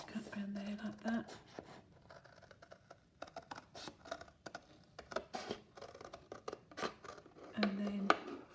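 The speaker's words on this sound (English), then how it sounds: "Just cut around there like that." Scissors cutting around a paper A5 page template, giving a series of soft, close snips and crisp paper scrapes at an uneven pace, with a quiet voice speaking now and then.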